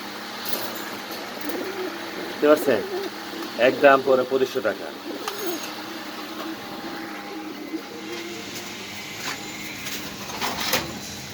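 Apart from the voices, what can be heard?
pigeons cooing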